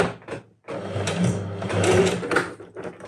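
A sewing machine runs in a steady, laboring whir, briefly stopping then starting again, its motor straining as the needle punches through thick material.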